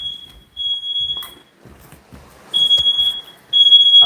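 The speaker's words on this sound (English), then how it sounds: "so now the smoke alarm is gone off" A household smoke alarm goes off at close range, sounding loud, piercing high-pitched beeps in bursts separated by short quiet gaps, with faint shuffling noise in between.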